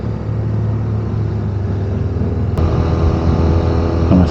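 A motorcycle engine on a road through Madeira's Seixal tunnel area, droning steadily at low revs with a faint shift in pitch as the rider tries to drop another gear, loud and close amid wind rumble.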